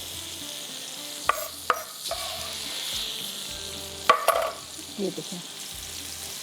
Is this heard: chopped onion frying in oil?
yes